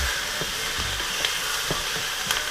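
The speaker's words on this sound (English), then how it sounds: "I love the smell of sauteing onions." Peppers, garlic and onion sauteing over high heat, a steady loud sizzle and hiss with occasional soft stirring knocks, close and continuous.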